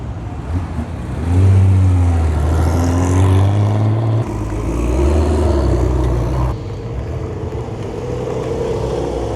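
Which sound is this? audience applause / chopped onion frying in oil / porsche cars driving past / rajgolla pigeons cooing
porsche cars driving past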